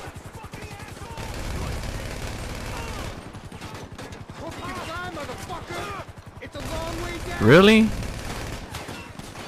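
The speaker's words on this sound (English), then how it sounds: "I'm really getting shot right now, man." Rapid bursts of gunfire from a GTA V firefight crackle through most of the stretch, close and steady under a player's brief exclamations, with a louder swell near the end.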